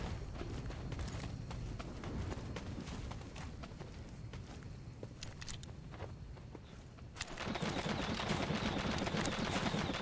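Rapid bursts of gunfire from an enemy in Naraka Bladepoint, sharp cracks scattered over a busy background of footsteps and game noise, growing denser and louder toward the end.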